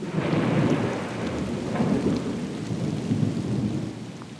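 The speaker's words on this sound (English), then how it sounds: "thunder and lightning drown out the relentless beating rain" A heavy thunderstorm lashes down steadily, with dense beating rain and low, rolling thunder rumbling throughout at a loud, close level, easing slightly toward the end.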